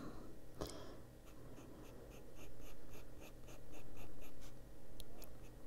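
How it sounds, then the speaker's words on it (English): Charcoal-based coloring pencil scratches across paper up close, faint strokes repeating in quick, rhythmic bursts with short pauses between passes. "And if it sounds scratchy, it's because it is. It is a charcoal base."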